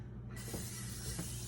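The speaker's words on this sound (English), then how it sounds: "he sprayed the whole pan" Aldi cooking spray misted onto a pan, a single steady hiss starting almost immediately and continuing close and loud to the end.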